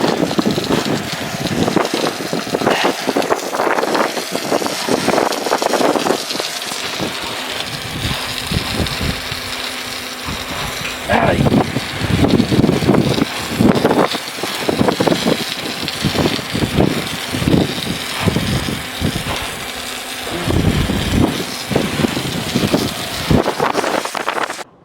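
Wind blows hard across a microphone outdoors at a farm irrigation pivot, a loud buffeting roar that rises and falls in gusts over a low engine-like rumble for the full stretch.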